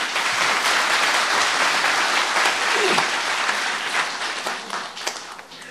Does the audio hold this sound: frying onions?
no